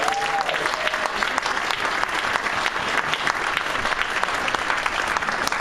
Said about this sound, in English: we can give them their first applause of the evening